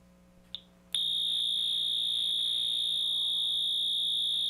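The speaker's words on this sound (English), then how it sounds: "Okay, that's definitely a Wheelock alarm." A Wheelock fire alarm bursts on after a brief click and blares a continuous, piercing electronic tone that stays loud and steady to the end.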